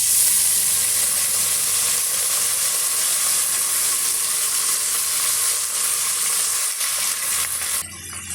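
Finely chopped onions and two sprigs of curry leaves sauté in a pressure cooker for chicken gravy, giving a loud, continuous close sizzle and hiss with faint stirring scrapes throughout.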